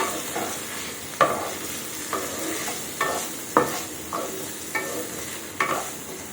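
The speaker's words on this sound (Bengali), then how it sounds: "আলু উচ্ছাগুলোকে দেখতেই পাচ্ছ, মোটামুটি ভাজা হয়ে এসছে।" Potatoes and bitter gourd stir-fried in a pan give a steady sizzle broken by sharp scraping stirs about once a second, close and alone with no talk.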